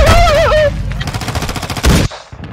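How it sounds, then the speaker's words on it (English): Rapid video game gunfire rattles in a dense burst across most of the moment, loud and close, after a brief whistling tone at the start and before a sudden cutoff. "I'm gonna shoot you right now"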